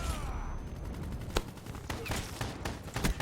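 Gunfire in the video game Black Ops 3 cracks as scattered sharp shots, some single and some in quick pairs, fairly faint against a steady background rumble.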